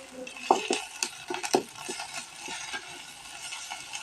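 Grated coconut sautéing in a pan for a Tamil chutney, a spatula scraping and clinking against metal over a low sizzle, with the busiest stirring near the start and quieter frying afterward.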